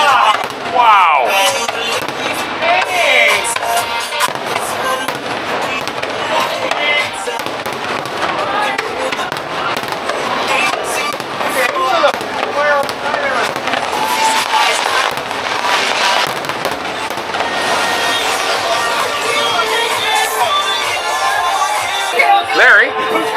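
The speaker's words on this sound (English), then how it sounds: "was it the best fireworks of your life?" Fireworks burst directly overhead during a Panama Canal cruise, a dense, continuous barrage of loud booms and crackles lasting over twenty seconds, very close and full, with excited voices of onlookers mixed in.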